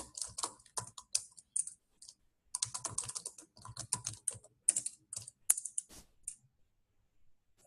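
Bursts of quick, crisp keystrokes on a computer keyboard, close and fairly quiet, with short pauses between runs of typing and one louder tap near the end.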